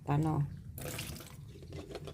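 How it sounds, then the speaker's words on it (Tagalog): Water is poured out of a pot after boiling eggs for an egg sandwich, a brief splashing stream near the start, followed by a person talking over faint trickling. "tapon natin ang tubig"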